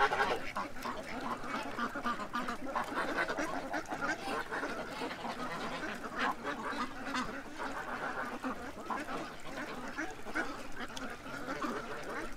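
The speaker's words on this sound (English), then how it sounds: "What a bunch of busy ducks" A busy flock of ducks and geese keeps up a dense, steady chorus of overlapping quacks and honks, loud and continuous throughout with no pauses.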